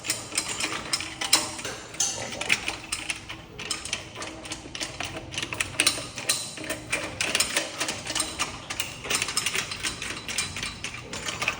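A ratchet tightens bolts on a pump strainer lid in a mechanical room, a close, rapid run of clicking bursts with short pauses between them, with no talking.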